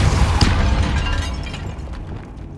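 A Depulso spell blast in Hogwarts Legacy lets out a sharp, bright crack early on, then fades into a dense, noisy wash of game ambience.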